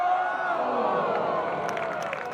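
A home crowd at a golf match cheering and roaring steadily throughout, a dense broad wash of voices with scattered whoops rising near the end.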